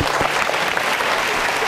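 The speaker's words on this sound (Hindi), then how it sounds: "जोरदार ताली होनी चाहिए।" Loud, dense applause from a school audience at a classical dance performance, a steady wash of clapping filling the room throughout with no voices on top.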